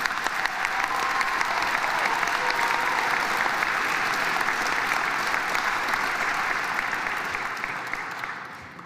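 A large crowd at a Simon Fraser University convocation ceremony applauds the graduating class of 2023, with loud, sustained, dense clapping for nearly nine seconds before it fades at the end, and no voices heard over it.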